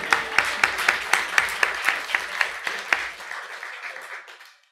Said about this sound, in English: A round of applause for Reality,